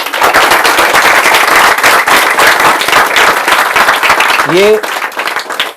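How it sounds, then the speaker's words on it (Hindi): Dense, loud applause from a seminar audience rolls on for several seconds as a steady wash of clapping, with a voice briefly rising over it near the end. "ये आप एमएलए के लिए तालियां बजा रहे हो"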